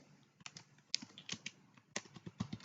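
A computer keyboard is typed on in short bursts of close, crisp keystrokes with brief pauses, quiet and with no voice over it.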